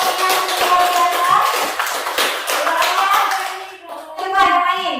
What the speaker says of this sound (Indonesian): kasih tepuk tangan dulu untuk kelompoknya luar biasa